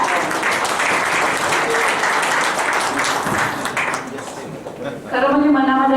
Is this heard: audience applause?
yes